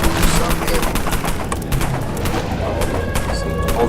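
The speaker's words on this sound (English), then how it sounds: "Let me get a machine gun out." Machine gun fire in the zombie video game Dead Frontier, rapid continuous bursts of loud crackling shots that run densely across the whole stretch without pause.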